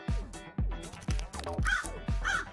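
Crow cawing in a steady series of about six loud, harsh calls, close by and spaced roughly half a second apart, with no other sounds in between.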